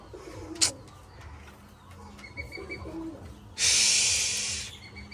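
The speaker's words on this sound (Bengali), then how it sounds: "এটা একদম একদম নতুন কবুতর আমাদের ফার্মে" A pigeon coos softly on a pigeon farm, with a few low calls close by. There is a short sharp knock near the start and a burst of loud hissing noise near the end.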